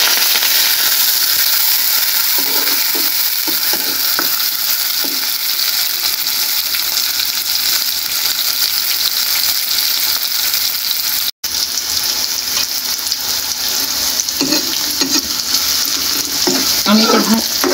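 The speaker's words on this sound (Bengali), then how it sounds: "আমি এটা লাল লাল করে ভেজে নেব, খুব বেশি লাল করব না, হালকা।" Garlic and onion with dried chilli fry in a pan, giving a loud, continuous close sizzle, with occasional stirring clinks and no talk.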